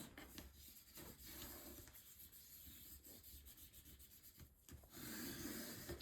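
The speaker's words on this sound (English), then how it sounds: "I'll burnish this down" A tool rubs back and forth over paper while burnishing it down on a mini album project, a soft dry scraping repeated in short strokes, close and fairly quiet.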